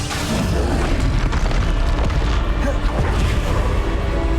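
Repeated Bombarda explosion spells from Hogwarts Legacy, a continuous stream of loud, dense blasts and booms layered with heavy rumble, with no clear gaps between impacts.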